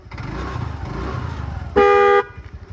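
A TVS Jupiter scooter's extra added horn blares loudly for about half a second after traffic-like engine rumble, a single sustained multi-tone honk, close by.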